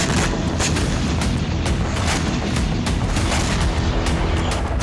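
Missile and bomb strikes in Kyiv during the Russia–Ukraine war, heard as a dense, continuous barrage of loud booms and sharp cracks with repeated impacts, no talk.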